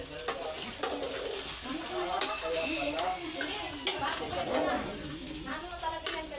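Food fries and is stirred in a pan, a busy sizzle broken by scraping stirs, with faint bird cooing in the background.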